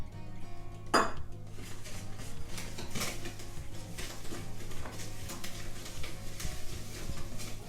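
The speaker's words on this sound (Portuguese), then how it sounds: "Vou mexer ela para dissolver bem." A spoon scrapes and clinks against a bowl while sugar is stirred in to dissolve for a cream pie batter, with one sharp clatter near the start and soft, continuous scraping after it.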